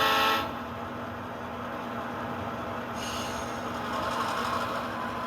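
A train shoves two and a half to three cars to couple them, producing a low rolling rumble with faint wheel squeal and a short, brighter burst at the start.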